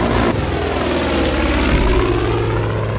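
A steady, loud rotor-and-engine drone of a small helicopter flying close by in the video game Far Cry 5, droning continuously with a slight shift in pitch and no voices.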